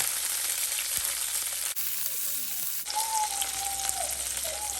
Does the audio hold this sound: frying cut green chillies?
yes